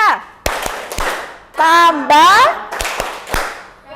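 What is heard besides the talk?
class rhythmic clapping game, tepuk matematika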